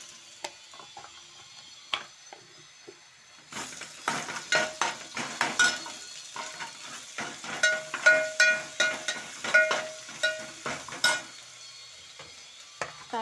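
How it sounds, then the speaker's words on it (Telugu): Onions fry in a pan with ginger paste added for a mushroom curry, starting as faint scrapes and then turning into a steady sizzle with repeated spoon scrapes and clinks against the metal pan, close by. "ఆనియన్స్ బాగా ఫ్రై అయిన తర్వాత అల్లం పేస్ట్ వేయాలి."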